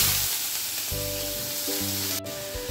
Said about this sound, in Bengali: এইবার আমি ওই কড়াইতে কালো জিরে দিয়ে দিচ্ছি ফোড়ন। এইবার পেঁয়াজগুলো এর মধ্যে দিয়ে দেব।